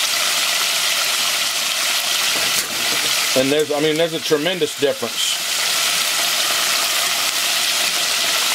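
Chicken fillet frying in boiling oil, a steady close sizzle and bubbling that persists throughout while someone speaks briefly in the middle.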